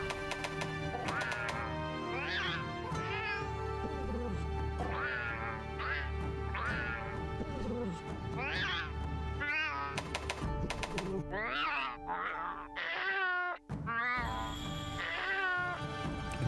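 Repeated cartoonish cat meows and yowls in Monster Hunter Rise, some quacky, play one after another over a steady electronic game soundtrack.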